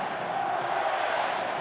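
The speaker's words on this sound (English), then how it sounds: "The crowd is right up there." An NRL rugby league stadium crowd watching the Roosters gives a dense, continuous roar, broad and steady, with faint voices mixed into the din.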